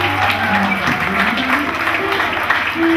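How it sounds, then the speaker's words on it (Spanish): A crowd claps for a birthday at a club gig, scattered applause with a few cheers beneath a steady low musical hum and faint voices in the room. "pido un fuerte aplauso"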